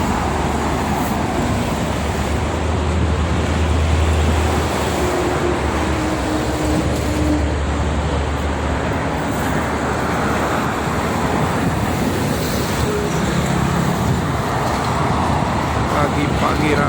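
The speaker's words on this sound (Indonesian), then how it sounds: "Dominasi oleh kendaraan truk pagi." Heavy morning traffic on the Jakarta–Cikampek toll road, mostly trucks and buses, makes a loud, continuous roar of passing vehicles. Strong wind buffets the microphone throughout.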